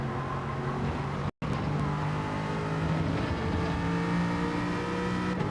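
Race car engine from Gran Turismo 7 runs at steady high revs through corners in fourth gear, a sustained droning tone with slight pitch shifts and one brief dropout.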